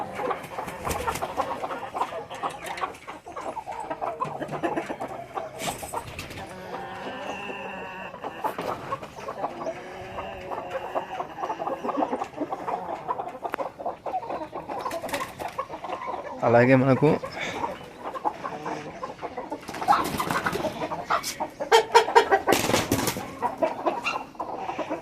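Peru cross chickens on a breeding farm in Medak cluck and call repeatedly, close and fairly loud, while someone talks over them.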